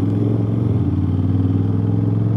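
Aprilia RS660 motorcycle running on a newly fitted aftermarket exhaust from DD Exhaust, a loud, steady, deep engine drone close by with no talk.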